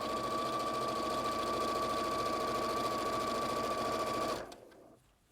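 Sewing machine stitching fabric with a quarter-inch foot, a fast steady mechanical whir with a bright hum, running close and loud for over four seconds before stopping abruptly.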